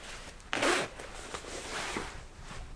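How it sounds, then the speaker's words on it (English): A functional zipper on handmade jeans with topstitching is zipped once, a short, close, scratchy rasp against faint room noise. "I'll show you it has a functional zipper"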